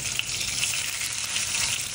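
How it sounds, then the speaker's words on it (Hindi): Cumin seeds tempering in hot oil in a pan, spattering and sizzling in a continuous, crackling hiss with sharp little pops, close and alone. "चटके आए हैं ना बहुत बुरी तरह से, ये देखो ना पूरा गीला हो गया चटकों से।"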